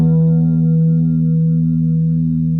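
A single low guitar note rings out steadily through an effects pedal, thick and sustained with a buzzing, slightly distorted tone.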